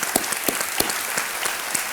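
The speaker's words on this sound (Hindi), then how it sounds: "तालियों के साथ एक बार आपका अभिनंदन हम करते हैं।" Studio audience clapping on a Hindi television quiz show set, dense and lively with sharp individual claps punctuating the sustained wash, close and loud throughout.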